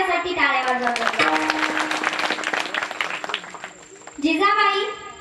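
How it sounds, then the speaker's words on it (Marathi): An audience at a village kirtan performance claps, producing a rush of applause that fades and then rises again, with voices over it. "एकदा सर्वांनी त्यांच्यासाठी टाळ्या वाजवल्या"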